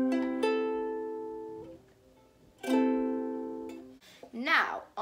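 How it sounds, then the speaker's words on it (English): Tuned ukulele strummed twice, with each chord ringing out and fading, then a short burst of speech at the end. "Once your ukulele is tuned, it should sound something like this."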